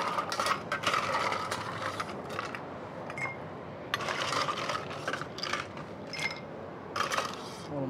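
Ice rattles and clinks into a glass or mixing vessel for a whiskey drink, a close cluster of bright clattering hits in bursts over a steady background.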